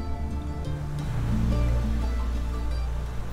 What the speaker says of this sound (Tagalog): pero mabangis ang alon at hangin.